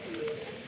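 A kucir iplik pigeon of the megan colour gives one brief, soft coo over light background noise.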